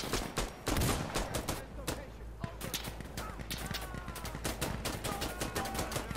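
Dense gunfire in the video game Insurgency Sandstorm, rapid automatic bursts and overlapping shots crackling continuously and loudly, with a voice talking over the shooting.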